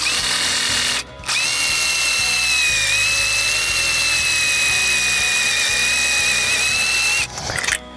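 Power drill driving a Tek screw into the metal channel of a high tunnel greenhouse kit, a loud steady whine held for about six seconds between brief pauses, close and alone.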